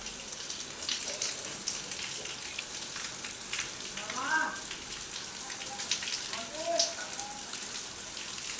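Steady rain hissing across a surface throughout, with a few faint voices and brief chirpy sounds rising over the patter now and then.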